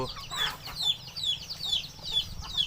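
A flock of Thai native chickens, about three months old, clucks steadily, with repeated high chirping calls close at hand and no talking.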